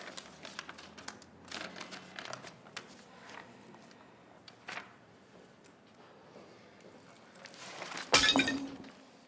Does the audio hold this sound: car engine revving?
no